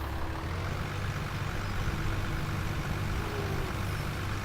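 A tractor engine idles in Farming Simulator 17, a steady low diesel rumble held at constant level throughout with no speech.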